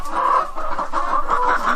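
Hens on a poultry farm clucking steadily up close, a dense run of overlapping clucks and short calls with no talk.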